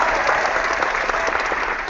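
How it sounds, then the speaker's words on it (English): Dense, steady applause from a crowd, loud and continuous throughout the short stretch, with no voices. "Give him a round of applause."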